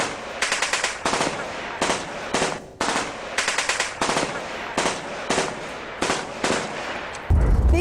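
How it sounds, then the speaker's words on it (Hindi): A Ukrainian soldier fires a gun at an effigy of Putin hung up in Avdiivka, producing rapid bursts of loud automatic gunfire in repeated volleys with short gaps between them, close and sharp. "पुतिन के पुतले पर फायरिंग करता दिखा यूक्रेनी जवान।"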